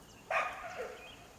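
A dog gives one sharp alarm bark at a feral cat, a single short burst at moderate distance, followed by a brief softer trailing yelp against a quiet background.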